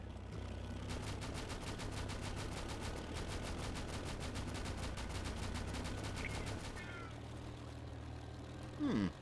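A 20mm aircraft cannon strafing pass in the WWII game Easy Red 2, Cassino campaign: a long, steady stream of rapid, evenly spaced shots over a low engine drone, lasting several seconds before cutting off.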